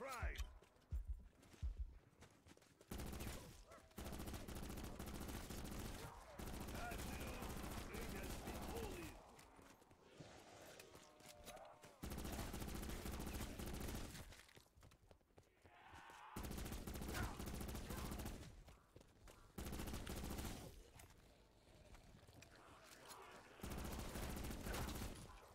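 Video game gunfire in rapid bursts of fusillade and machine-gun shots, starting and stopping repeatedly over a long stretch, with players talking in between.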